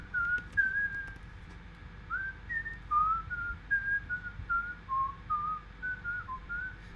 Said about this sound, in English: the song I just whistled